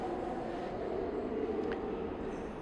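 A subway train rumbles steadily through a Montevideo metro station, a continuous loud roar with no breaks and no talk over it.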